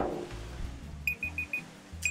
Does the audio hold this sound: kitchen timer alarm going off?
yes